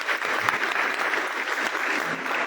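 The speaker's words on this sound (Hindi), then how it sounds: "जोरदार तालियां।" A seminar audience breaks into applause: loud, dense and sustained clapping from many people that fills the whole moment without letting up.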